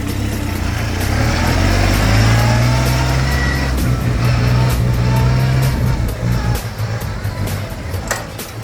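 A used Kubota B2420 tractor's diesel engine runs steadily and loudly close by, a constant low rumble that eases slightly toward the end.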